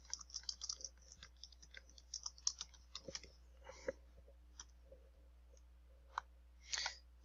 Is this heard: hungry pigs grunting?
no